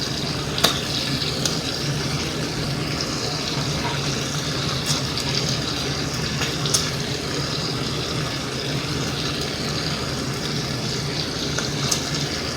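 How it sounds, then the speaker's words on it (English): Fat is strained off a cooking pot in a Creole kitchen. Liquid pours and trickles steadily, broken by a few light metallic clinks, close by with no voices. "I'm gonna strain the fat off this pot here."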